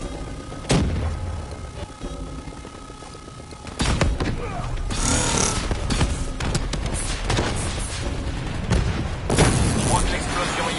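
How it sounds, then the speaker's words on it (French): An EMP blast from an exploding generator in the Call of Duty Black Ops III campaign bursts out as a loud, crackling boom amid sharp gunfire-like bangs and mechanical game effects, with a voice talking over parts of it. "Je crois que l'explosion IEM du générateur a grillé ton drone"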